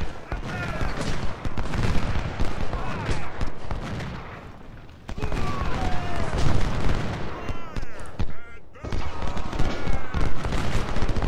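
Volleys of cannon fire and musketry roar through a battle in the Civil War game Ultimate General: Civil War, loud bursts that briefly dip around the middle, then resume with repeated heavy booms, with no voice heard.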